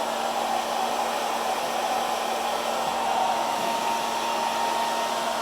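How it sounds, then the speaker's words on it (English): A hair dryer blowing cold air to dry acrylic pour paint runs steadily and loudly, a constant whooshing roar with a faint whine, without pause and no voices. "I've got actually the cold air blowing from the heat gun, or from the hair dryer."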